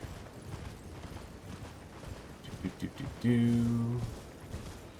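Horse hooves thud in quick clip-clop rhythm while riding through Elden Ring, a muffled run of steps followed by a loud sustained tonal blast near the end, with faint background game sound.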